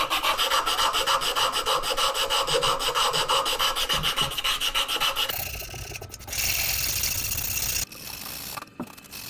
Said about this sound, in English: I'm just going to get some sandpaper, cut them in strips, and kind of do the old shoe shine method